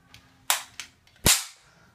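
A toy cap gun snaps four times at home, two small pops then two sharp loud cracks, the last ringing out briefly.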